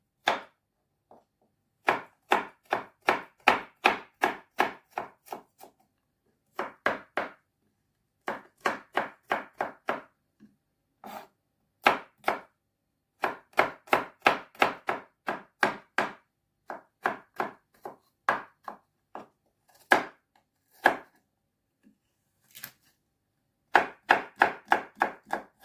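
A knife chops garlic on a cutting board for a beetroot salad. The strikes are close and crisp, coming in quick rhythmic runs with short pauses between them, and no one speaks.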